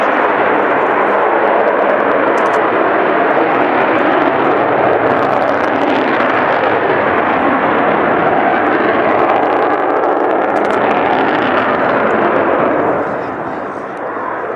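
Aircraft XH558 performing in an air display: a loud, sustained jet roar fills the air without a break and thins out slightly in the final moments.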